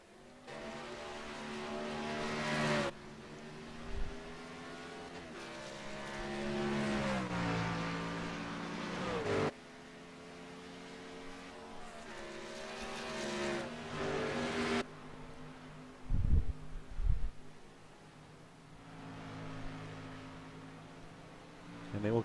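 A race car in a racing video game weaving side to side to clean its tires under caution, engine note rising and falling in repeated sweeps, with pauses and a few low thumps.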